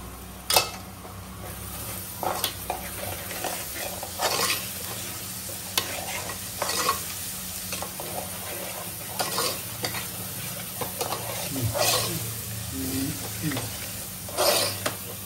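A spoon stirs ginger-garlic-chili paste in a pan for an Agri-style dal mutton mundi, with repeated scraping strokes over a low, steady sizzle of frying, moderately close, while a voice talks now and then.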